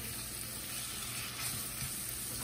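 Peppers and onions sizzle steadily in a hot pan, a continuous, fairly loud crackling hiss with no talking over it.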